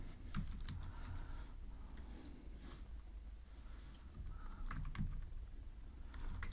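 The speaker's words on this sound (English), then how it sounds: "here I will type intent dot put extra" Code is typed on a computer keyboard in quick, uneven bursts of faint clicky keystrokes against a low background hum, with no talking.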